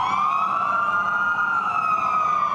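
Fire engine and ambulance sirens wailing together, a loud continuous rising and falling tone held steady throughout, with no talk.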